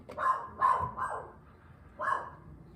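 A pet dog named Sugar barks at someone at the door indoors, giving four sharp barks in two quick pairs with a pause before the last, loud and close.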